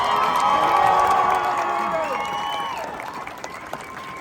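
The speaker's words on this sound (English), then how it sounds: "Let's do one more round of applause for AOC" A rally crowd at a Green New Deal event in Austin applauds and cheers for AOC, loud clapping with whoops and shouted voices at the start that gradually thins out, leaving scattered claps.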